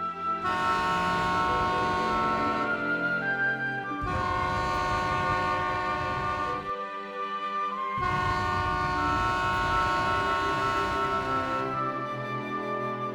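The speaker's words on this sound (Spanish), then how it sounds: "Cuando las embarcaciones pasan frente a la Cruz Blanca, aminoran la marcha y lo honran, haciendo sonar sus sirenas" Boats on Lake Nahuel Huapi sounding their sirens, long loud tonal horn blasts that overlap in sustained waves, with brief gaps between them, close and dominant with no talk.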